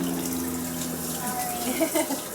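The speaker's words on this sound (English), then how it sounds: "So I'm going to wash my hands really quickly." A tap runs steadily with a soft splashing rush, water spattering as hands move under the stream, close by.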